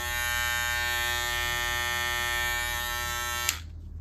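A cordless hair trimmer with a 7,000 RPM motor and NiMH battery runs close by with a steady, bright electric buzz that cuts off abruptly near the end, leaving faint background noise.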